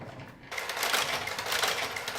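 A Taitexma knitting machine with its needle housing coming loose runs with a harsh, continuous mechanical rasp, starting abruptly and staying loud and close throughout.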